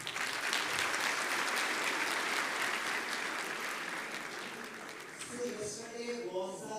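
Applause from a large crowd of new students at a university orientation program, a broad steady wash of clapping that carries throughout and thins slightly toward the end, with a few voices faintly underneath.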